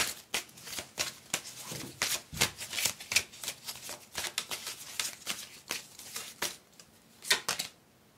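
Tarot cards being shuffled by hand in a card reading, a rapid series of crisp riffling slaps and papery flicks, close and fairly quiet, no voices.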